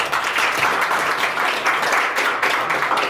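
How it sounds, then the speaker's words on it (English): An audience applauds steadily at close range, the clapping dense and sustained throughout without pause. "Can we give a round of applause to Jack?"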